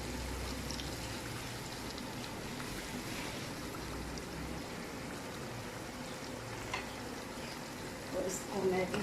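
Mutton liver frying in a pan while fresh coriander is stirred in, a soft, continuous sizzle with occasional scraping, growing a bit louder and busier near the end.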